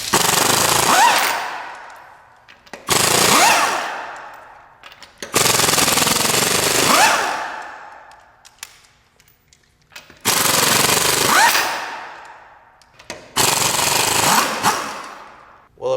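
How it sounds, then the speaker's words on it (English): A 3/8-inch pneumatic impact wrench hammers loud rapid bursts while removing lug nuts, five separate rattling runs of one to three seconds each, separated by near silence. "here I have my 3/8 pneumatic impact"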